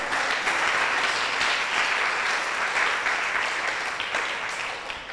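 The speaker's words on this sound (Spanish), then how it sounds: "¿Cuánto le dan ese fuerte aplauso al Señor?" Church congregation giving sustained loud applause, dense steady clapping throughout with no voices over it, tapering slightly at the end.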